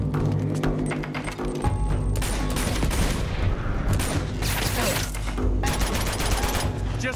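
Sustained bursts of gunfire fill a firefight in Uncharted 2: Among Thieves, rapid shots and volleys layered over dense music and effects, loud and continuous throughout.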